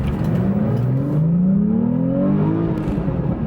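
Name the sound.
Porsche 991.2 sports car accelerating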